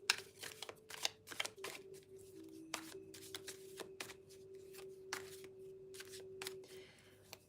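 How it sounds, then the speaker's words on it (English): Tarot cards riffle and slap as a deck is shuffled and cards are drawn, a run of crisp, close papery bursts over about seven seconds, with a faint steady hum underneath. "And then I'm going to pick 3 cards."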